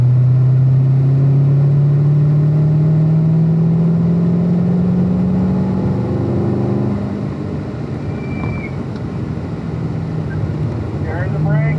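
A car's engine drones and climbs steadily as it accelerates downhill on the Spring Mountain Motorsports Resort race track, heard from inside with wind buffeting and voices over the engine.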